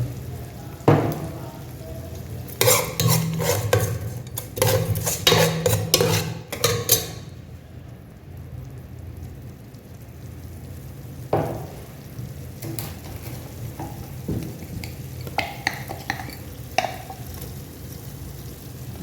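Masala stirred into a fish curry in a hot pan, a loud bursty scraping and sizzling clatter that comes in dense rhythmic strokes early on, then softer, sparser stirring with occasional clinks.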